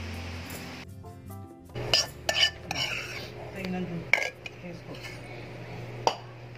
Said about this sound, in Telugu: పచ్చిమిరపకాయలు మెదగాలి కాబట్టి దంచుకుంటున్నాం